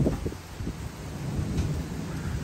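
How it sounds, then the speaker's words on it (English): A thunderstorm with 60-70 mph winds in St. Charles, Missouri, brings a dense, steady wash of heavy rain with a low rumble and gusty rustling, loud and close, with no one talking. "And here comes the rain."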